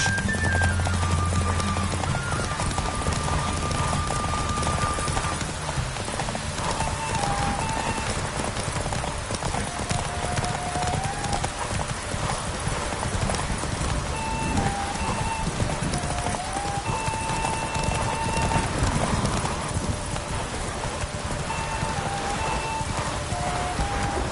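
Steady rhythmic clip-clop of Roach, the horse in The Witcher 3, galloping on and on under light rain ambience, with faint game music in the background.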